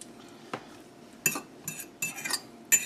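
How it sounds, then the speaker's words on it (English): Pasta and clumpy pesto are stirred in a bowl with a utensil, giving irregular clinks and scrapes of cutlery on dishware. The bursts are fairly close and come in a loose, uneven rhythm. "the pesto tends to clump, so you got to stir it a bunch"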